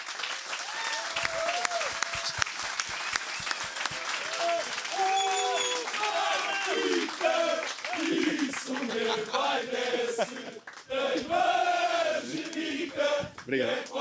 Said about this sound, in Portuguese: Pedia-vos um grande salve de palmas para João Diogo Manteigas.